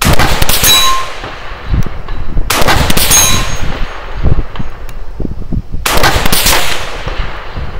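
Rifle bullets strike a large steel gong target at a 3-gun range, giving three loud, ringing metallic clangs, each tailing off, amid outdoor gunfire and wind.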